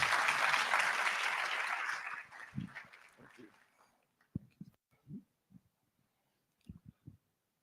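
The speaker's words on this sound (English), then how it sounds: "I was expecting a stronger clap." Audience at a college of physicians and surgeons fellowship induction claps in a short dense burst that fades within a few seconds, leaving scattered thumps and soft knocks in a quiet hall.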